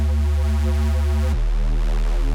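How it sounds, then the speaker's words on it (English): Synth in Ableton Live run through Serum's built-in distortion: a loud, buzzing sustained tone with a dense stack of harmonics that shifts abruptly to a lower, darker note partway through, with no talking. "This is with the distortion still on."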